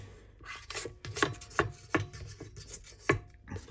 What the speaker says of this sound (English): I'm going to scrape down the sides and get everything in